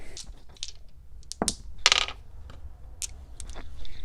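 Dice roll across a fake fur dice tray, making a scattered run of soft, muffled clicks and rattles with brief sharper taps, close by and without speech.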